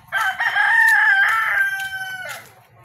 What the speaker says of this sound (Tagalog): Naganda yung manok ko.